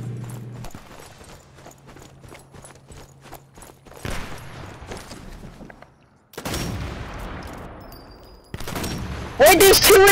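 Sniper Elite 4 combat sounds: a run of sharp, clicking shots and thuds, followed by louder blasts and echoing cracks in the later part, with voices talking over the mix.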